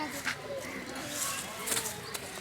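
Pigeons coo at a weekly pigeon, duck and poultry market in Sirajdikhan bazaar, Munshiganj, heard as soft calls mixed into busy crowd chatter and market noise.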